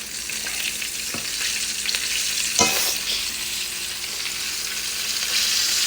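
Fish frying in hot oil, a dense continuous sizzle with a couple of sharp knocks and a brief surge as pieces are turned over, no talking.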